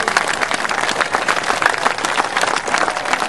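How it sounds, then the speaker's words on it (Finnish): Spectators at the finish of a 60 km church boat race world championship applaud the first world champion, a lively burst of clapping with individual claps standing out, loud and steady throughout. "nyt tosiaan samat aplodit ensimmäiselle maailmanmestarille"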